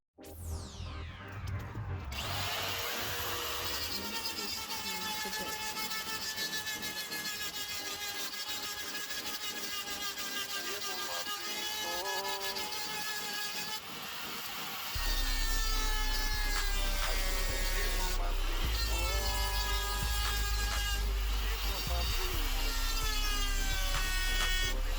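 Power sanding on metal brake parts for a six-piston brake install on an SRT Magnum, a loud sustained whirring and grinding throughout, with the pitch shifting as pressure changes, and no talking.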